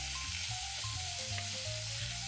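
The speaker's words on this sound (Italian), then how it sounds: "Mettiamo 200 g di macinato di parte coppa di suino. Separiamo tra di macinato di carne con la spatola." Minced pork neck sizzles steadily in a hot pan on medium heat, a continuous loud frying hiss with faint scraping as a spatula breaks the meat apart.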